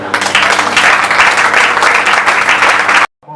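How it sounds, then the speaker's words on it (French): An audience at a women's month memorial ceremony claps to welcome guests, a loud, dense burst of applause lasting about three seconds before cutting off abruptly. "nous pouvons acclamer pour nos invités"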